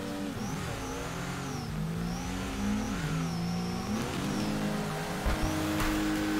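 A Z car's engine revs hard and drifts in the Torque Drift video game, with rising and falling engine pitch sustained throughout and a brief tire squeal near the end, loud and alone.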